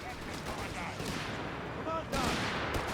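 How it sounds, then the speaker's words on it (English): Dense battlefield gunfire in the World War II strategy game Company of Heroes 3, with overlapping shots and rumbling explosions forming a continuous din beneath a commentator's voice. "shots being fired"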